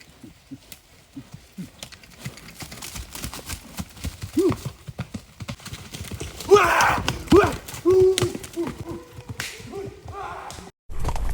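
Horse hooves clip-clop in a steady, brisk rhythm during a festival horse ride, the hoofbeats close and clear with occasional sharper knocks and a louder stretch midway.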